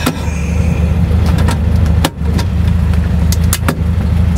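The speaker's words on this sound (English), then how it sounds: "This crate motor delivers really, really smooth power." A Volkswagen Super Beetle with a crate motor runs smoothly on the road, a close, steady low engine rumble with a few brief clicks and knocks and one short dip in level.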